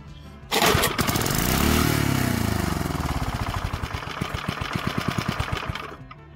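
Small tiller motor starting up and roaring at full throttle: a loud, close, rapid rattling engine drone that holds steady, then slows into distinct chugging pulses before cutting off, no talking.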